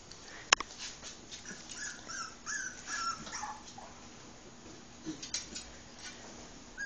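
A mother dog with her puppies gives soft whimpers and thin whines, with a few brief yips, faint and close in a quiet room with no talking.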